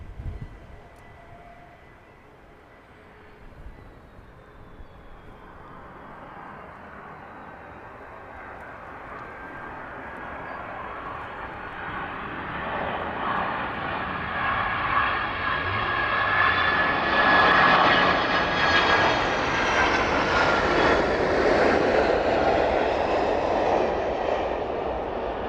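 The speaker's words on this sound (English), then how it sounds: "Loud arrival of the 767" A Boeing 767 jet airliner arriving at East Midlands Airport after a service from JFK, its engines building from a distant rumble to a loud, close roar that peaks near the end.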